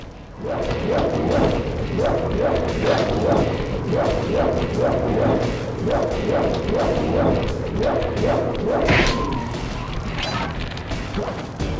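Repeated barking from a guard dog in the Sly Cooper video game sounds in a steady rhythm for about nine seconds over a continuous crashing backdrop, followed by a brief sharp clatter near the end.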